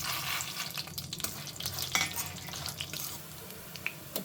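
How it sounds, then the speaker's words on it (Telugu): Dried red chilies and coriander seeds frying in oil in a pan for ginger chutney: a close crackling sizzle mixed with scraping and stirring, uneven bursts and a few sharp clicks, with no voices. "దాంట్లోకి కొంచెం ఆయిల్ వేస్తున్నాం ఎండుమిర్చి కొంచెం ధనియాలు"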